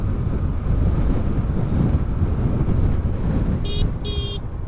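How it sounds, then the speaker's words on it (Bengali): Strong coastal wind roars steadily into the microphone by the sea at Dhanushkodi near Rameshwaram, with surf rumbling beneath it and a pair of short electronic tones sounding near the end. "আর এত জোরে বাতাস হচ্ছে"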